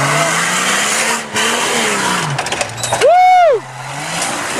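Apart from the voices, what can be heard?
Jeep engine revving while climbing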